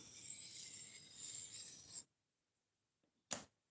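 Knife blade taking burr removal passes on a sharpening surface before stropping, a dry rasping scrape lasting about two seconds, then silence and one short stroke, close up.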